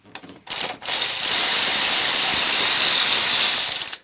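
A ratchet wrench spins off 8 mm caps on a Subaru WRX/STI engine during a timing belt job, giving a loud, close, continuous rapid clicking after a brief start-stop, heard alone.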